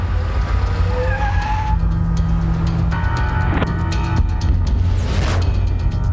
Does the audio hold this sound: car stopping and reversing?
yes